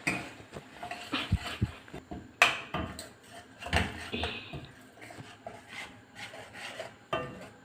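A spoon scrapes and rubs around a pot of egg stew with curry leaves, then a lid goes on, giving irregular close-up rasping strokes and knocks with quiet gaps between them.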